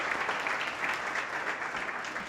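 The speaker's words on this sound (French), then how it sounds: "vous pouvez vous applaudir encore" A crowd claps continuously, a dense patter of many hands at moderate volume that fades slightly toward the end.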